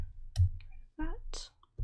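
Computer mouse clicks while setting up a Notion workspace, a few short sharp clicks between bursts of a person talking.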